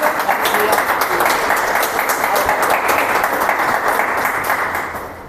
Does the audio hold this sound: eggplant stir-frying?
no